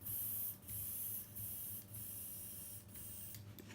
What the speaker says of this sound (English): we're going to give that a spray out into here